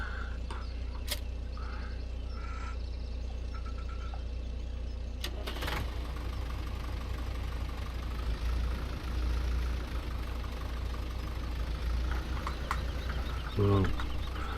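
A tractor engine idles steadily in a low, continuous rumble, with a few brief clicks and knocks and a faint bird in the background.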